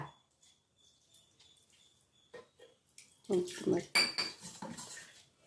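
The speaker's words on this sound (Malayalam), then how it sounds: "അധികം വെള്ളം ഒഴിക്കാണ്ട് കുറച്ച് വെള്ളം ഒഴിച്ചിട്ട് മിക്സിക്കപ്പ് കഴുകിയാൽ മതി" A mixer grinder jar is rinsed with a small amount of water, with clinking of metal and utensils and brief sloshing, sparse at first and then a denser run of knocks and rattles, near and moderately loud, with someone talking quietly.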